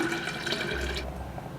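Syrup, lemon juice and sparkling water poured together for lemonade: a steady close splashing and fizzing pour that trails off into softer bubbling.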